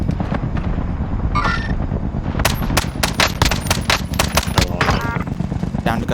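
Gunfire in Call of Duty: Warzone: rapid bursts of loud shots in quick succession, close and sharp, with team voices talking underneath.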